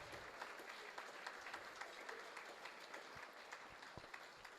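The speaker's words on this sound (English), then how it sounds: "I'd like to just give you a round of applause" Audience applause for volunteers at a Dancing with the Big Sky Stars event, steady dense clapping from a room full of people, fairly faint and distant, running continuously without a break.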